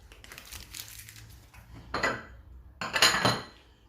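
Cake batter being mixed in a bowl, heard as a few separate bursts of utensil scraping and clinking against the bowl, growing louder toward the end, close and fairly quiet.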